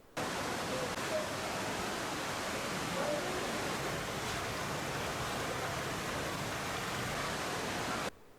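A waterfall in Bursa pours in a steady, broadband rush of falling water, loud and unbroken until it cuts off abruptly near the end.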